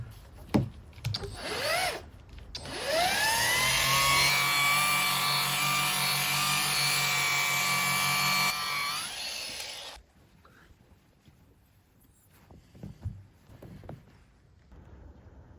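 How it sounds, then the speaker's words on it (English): A power sander and polisher works a car body panel after paintless dent removal, a loud steady whine running for several seconds before cutting off, with quieter handling noises and knocks before and after. "Giving it a final sand down, and then a bit more polish."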